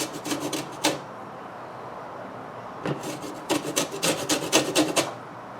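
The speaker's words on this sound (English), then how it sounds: "we're getting some nice lime zest there" A lime being zested on a grater in a home kitchen: a quick run of dry rasping strokes, a pause of near silence, then a longer, livelier burst of scraping strokes, close and clear with no talk.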